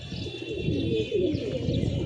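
Young pigeons cooing while out flying freely near a tin roof, soft repeated coos with light chirps over a steady outdoor background, fairly close, no talking.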